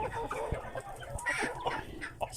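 A free-range Philippine native chicken (manok Bisaya) in Cebu clucks in short, irregular bursts nearby, with other farmyard fowl faintly around it and no clear talking.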